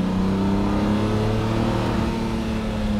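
Lamborghini Murciélago Roadster V12 held at around 3000 rpm, a steady loud idle-like drone with strong low harmonics, continuous and close, no voices.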